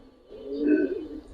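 Pigeons in a Bangladeshi pigeon seller's stock of Giribaz coloured pigeons give a soft, low rolling coo rising and fading over about a second, close and fairly quiet with faint higher tones above.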